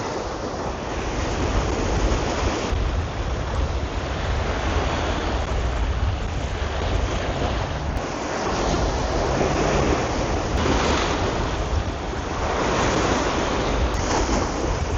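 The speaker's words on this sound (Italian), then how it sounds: "Questo ventaccio ha alzato più onde del previsto, spero di non beccarmi qualche schizzo." Wind-driven sea waves surge and break continuously during a shore fishing session, loud and close, with gusty wind buffeting throughout and rolling swells rising and falling in steady rhythm.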